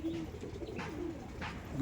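Kalasobuj and Kaldom pigeons cooing close by, low soft throaty calls repeating over a murmuring background.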